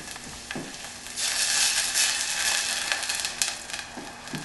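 Tequila hits a hot pan of appetizer ingredients and sizzles, a bright crackling hiss that swells up after a second and keeps frying unevenly with small pops.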